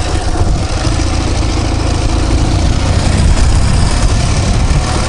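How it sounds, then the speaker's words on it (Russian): A Ural motorcycle engine idling close by in winter, a loud steady low rumble that holds constant without revving. "Мотоцикл Урал."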